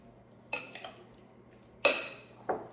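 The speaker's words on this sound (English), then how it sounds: "Mix that up." A few clinks and scrapes of a utensil against a dish as enchilada filling with beans is mixed, three or four sharp knocks spread out over a quiet background, with no talking.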